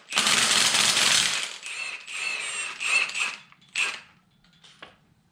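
A ratchet works loose the camshaft sprocket bolt on a 2006 Ford Mustang 4.0 V6 held by a cam holding tool, with a loud burst of rapid clicking followed by several shorter ratcheting runs and a few isolated clicks, no talk.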